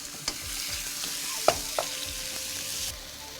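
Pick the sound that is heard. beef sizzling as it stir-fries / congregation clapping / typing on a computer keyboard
beef sizzling as it stir-fries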